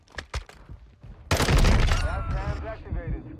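Burst of rapid gunfire from a video game while the player slides and shoots: quiet scattered clicks, then loud, dense automatic fire that tapers into shorter shots.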